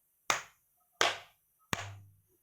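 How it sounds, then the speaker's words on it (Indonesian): Hands clap three times, each a sharp, close, isolated smack spaced evenly by short silences. "Yuk kita contohkan bagaimana suara tepuk tangan 3 kali."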